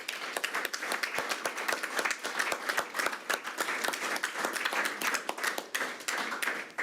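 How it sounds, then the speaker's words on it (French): A council chamber at a departmental council plenary session applauds its departing leaders, with dense, sustained clapping from many hands filling the room for nearly seven seconds and no talking. "Je pense qu'on peut les applaudir."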